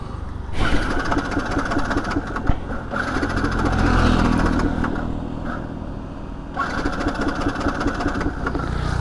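A Yamaha R15 V2 motorcycle engine fires up and settles into a steady close idle, then revs rise as the bike moves off, with a brief dip in the engine note before it picks up again.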